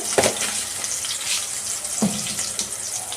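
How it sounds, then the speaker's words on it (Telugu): Chopped onion and a spoonful of seeds frying in hot oil in a pan, giving a steady close sizzle with a couple of sharper pops, alone without talk. "ఇప్పుడు ఆయిల్ కూడా కాయం కదా ఉల్లిపాయ వేసేసుకున్నాము"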